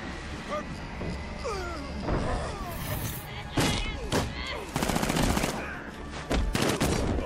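Gunfire in the Batman: Arkham Knight Harley Quinn Story Pack, with bursts of automatic shots and sharp impacts scattered through a busy game mix, mixed under voices talking.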